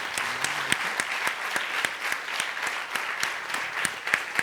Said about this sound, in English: a really warm round of applause for all that he has done